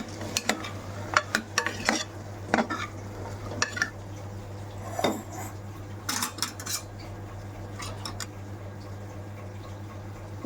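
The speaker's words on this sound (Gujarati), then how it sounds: "આ રીતે ટમાટર થઈ ગયા પછી આપણે અંદર બટાકા નાખીશું. એ આપણે મિક્સ કરીશું." A spoon scrapes and clatters against a pan while tomatoes and potatoes are stirred, sharp metallic knocks in irregular bursts over a low steady hum and faint sizzle.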